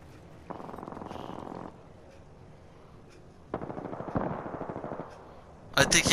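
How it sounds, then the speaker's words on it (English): Gunfire in the battle royale game Apex Legends, with bursts of rapid automatic shots in separate volleys, fairly close and sharp, and a louder cluster at the end, under faint background game sounds. "those shots sound super close"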